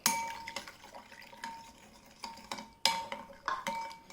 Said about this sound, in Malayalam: അത് ഇതിലേക്ക് ഒഴിച്ചിട്ട് ഈ ഈസ്റ്റ് ഒന്ന് അലിയിച്ചെടുക്കണം